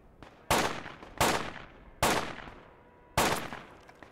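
Four loud single gunshots crack out at uneven intervals in the Project Reality game on the Burning Sands map, each with a long echoing decay fading into quiet before the next.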